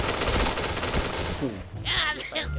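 Rapid bursts of gunfire from the Point Blank shooting video game crackle in quick succession, fairly close and loud, followed by a short tail of weapon and game effects.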